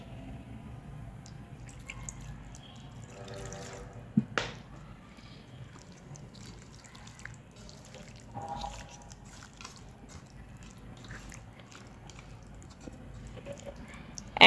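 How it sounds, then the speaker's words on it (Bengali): A little water is poured onto spiced duck meat in a pot, heard as scattered close drips, soft squishes and a few sharp taps of handling, fairly faint over a quiet background, with no voices. "অল্প একটু পানি দিয়ে দিচ্ছি।"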